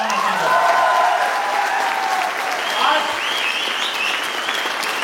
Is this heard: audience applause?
yes